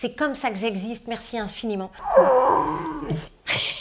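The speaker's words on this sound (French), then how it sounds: "c'est mon chien qui râle." A person speaks briefly, then a dog growls low and rumbling for about a second before a short noise cuts in.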